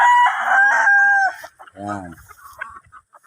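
A gamecock stag crows on a farm, a loud close crow followed by a shorter second call and faint clucking, with a brief spoken word.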